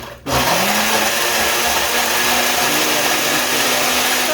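A blender mixing a frappe starts with a jolt and then runs at a steady, loud high-speed whir, close by and uninterrupted.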